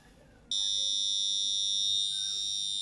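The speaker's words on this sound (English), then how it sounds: "approaching the vehicle, which will trigger this LED and the buzzer" A car alarm system's buzzer switches on when someone approaches the vehicle: a loud, steady high-pitched electronic tone starts abruptly after a brief quiet and holds unbroken to the end.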